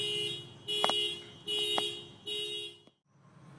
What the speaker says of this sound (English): he just set off an alarm